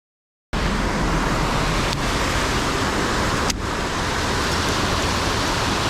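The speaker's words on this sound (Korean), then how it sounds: "근데 이틀 동안 비가 와가지고 지금 물살이 지금 세네요." Fast river current, running strong and swollen after two days of rain, gives a dense, steady roar of rushing water that fills the clip from start to finish, with faint knocks behind it.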